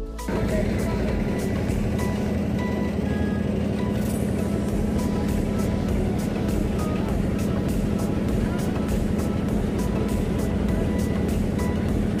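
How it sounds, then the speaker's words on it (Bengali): A trawler boat motors across the Padma River toward the Mawa side near the Padma Bridge, its engine giving a steady, loud drone with a constant hum and rhythmic pulsing throughout. "আমাদের ট্রলারটি ছুটে চলেছে মাওয়া প্রান্তের দিকে"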